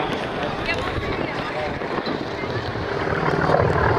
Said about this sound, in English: In front of us here at Show Center right now, the C-47 Gooneyberg.